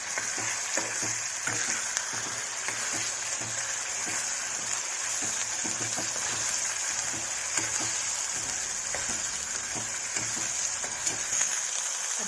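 Masala for a brinjal curry sizzles steadily in about two ladles of oil in a pan, a dense even crackle with soft scattered pops and stirring scrapes, close and moderately loud with no talk.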